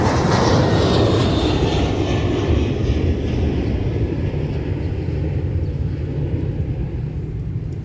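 An airliner arriving from Saskatoon rumbles past at MSP airport, a loud, close jet roar that is strongest at the start and slowly fades as it moves away, with no talk.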